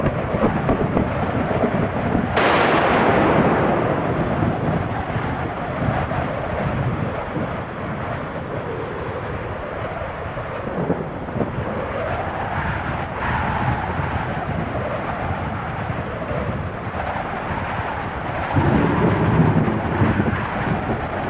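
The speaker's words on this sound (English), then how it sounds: "Nature's electricity sends a flag bearer into a panicked retreat as a bolt of lightning strikes" Thunder from a lightning strike nearby during an outdoor event with a flag bearer, a sudden loud crack followed by long rumbling and rolling noise mixed with wind buffeting the microphone.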